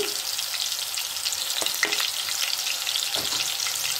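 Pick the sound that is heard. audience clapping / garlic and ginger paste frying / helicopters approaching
garlic and ginger paste frying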